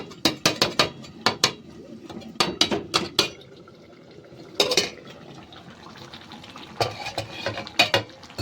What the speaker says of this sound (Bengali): ঢাকনাটাকে তুলে নেব